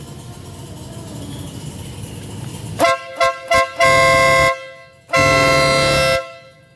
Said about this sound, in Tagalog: Sige nga pre, bosina mo pre.